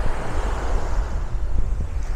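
Sea waves wash steadily onto the beach at Playa del Carmen, a loud, continuous surf roar with wind buffeting the microphone throughout.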